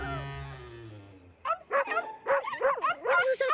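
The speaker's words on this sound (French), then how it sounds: "Vous entendez? Ce sont les autres petits chiens." Several small cartoon dogs yip and bark in quick, high-pitched bursts after a sustained musical tone fades, the barks close and lively, overlapping toward the end.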